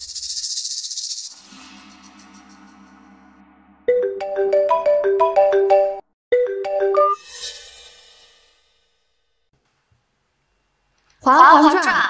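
A phone rings with an incoming call, a clear melodic electronic ringtone that plays a short repeating tune in two bursts, loud and close, set among other brief sounds and a stretch of silence.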